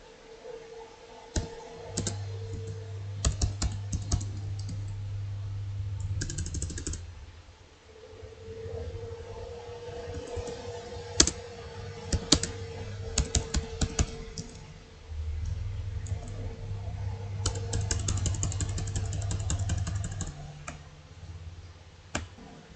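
Steady keyboard typing with quick clicking keystrokes and a few sharper taps, over a low continuous hum that swells and fades.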